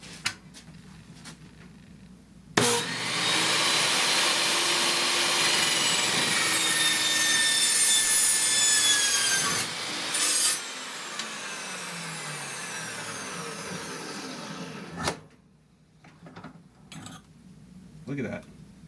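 A saw with a 15-amp motor running at low RPM cuts through stainless steel tubing, giving a loud, sustained grinding whine for about twelve seconds that slows and ends abruptly, followed by a few faint clanks.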